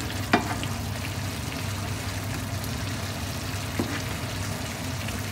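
Polpette meatballs fry in a pan in a tomato-sauce dish, a steady close sizzle and bubble with two soft clicks as the meatballs are turned, no speech.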